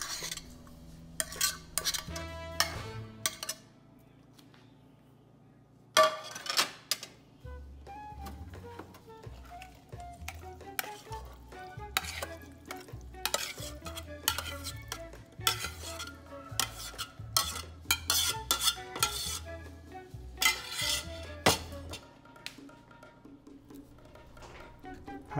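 Spatula stirring a thick mung bean and sweet potato filling in a pan over low heat: irregular close scrapes and metallic clinks come in bursts over a soft low hum, with no talk.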